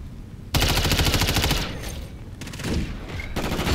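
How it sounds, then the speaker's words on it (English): Rapid automatic gunfire from a las rifle in Modern Warfare III, loud and dense in sustained bursts with a brief dip between volleys before firing resumes. "I love the laser gun sound"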